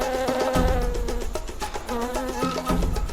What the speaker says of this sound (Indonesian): Pilihan ini memiliki konsekuensi bahwa Damin harus siap diserang lebah yang marah di ketinggian 90 meter.